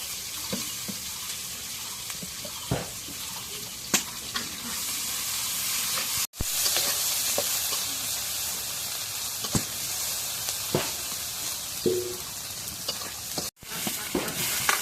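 Chilies frying in hot oil in a pan produce a dense, steady hissing sizzle, close and loud, broken by a few spatula taps and two brief cut-outs.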